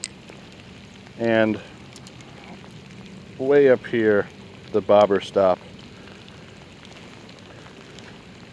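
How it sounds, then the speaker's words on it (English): Steady patter of rain falling outdoors on a cold winter day by the water, a soft continuous hiss throughout, with someone talking in short phrases over it. "we're going out here in the rain"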